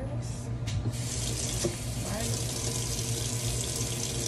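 A faucet runs steadily into a sink while hands are washed before cooking turkey necks, a continuous splashing stream close by with someone talking briefly over it.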